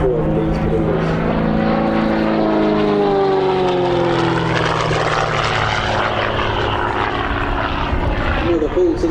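Propeller-driven aerobatic aircraft performing at an airshow at Sywell in 2024, its loud engine drone rising and falling in pitch through a steady pass, with a commentator talking over it throughout.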